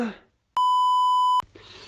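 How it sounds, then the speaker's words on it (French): A single steady electronic beep sounds for almost a second, following a voice and leading into another voice. "laisse un message après le bip"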